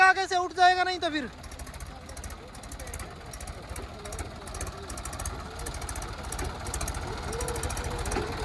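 A Mahindra 265 DI tractor engine runs at a steady, close rumbling idle with a rhythmic knocking beat. A brief high whine at the start gives way to the engine alone, which rises slightly toward the end.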